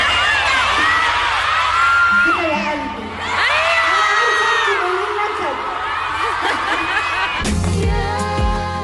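A concert crowd at a show in Saudi Arabia cheers and whoops loudly in waves of voices, and a deeper burst of sound cuts in near the end.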